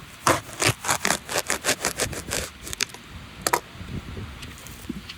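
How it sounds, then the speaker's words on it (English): Knife cutting a small wooden shim outdoors in a giant pumpkin patch, a quick run of rhythmic scraping strokes followed by a few scattered cuts and rustles, close and fairly quiet. "So I need to take my knife out again, and I'm gonna cut."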